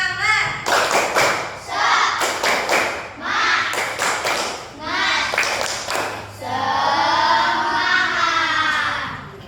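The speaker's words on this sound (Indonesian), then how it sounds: "Tepuk semangat." Rhythmic group clapping in quick bursts, with a class of schoolchildren in a classroom chanting loudly along between the claps.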